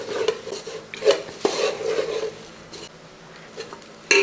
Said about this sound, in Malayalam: പൊടികളൊക്കെ ചേർത്ത ശേഷം നമുക്കൊന്ന് ഇളക്കി കൊടുക്കാം ഇതേപോലെ നന്നായിട്ട് ഇളക്കി